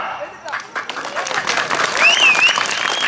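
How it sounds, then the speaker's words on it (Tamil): Dense audience applause at an outdoor political rally in Tamil Nadu, steady clapping from a large crowd with a whistle rising through it, continuing throughout. "கைதட்டா."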